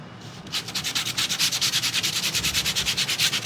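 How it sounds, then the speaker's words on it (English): A sanding block or sandpaper scratches across the raised surface of an embossed brochure, making a fast run of rhythmic, rasping back-and-forth strokes that sound loud and close. "If you take a sand block or sandpaper and just scratch the top of this"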